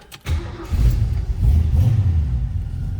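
A 1969 Ford Torino GT V8 engine cranks briefly, catches, and settles into a loud, rumbling idle close by.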